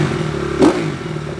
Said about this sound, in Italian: E adesso sentiamo la differenza nel parlare sotto un rumore di un due tempi.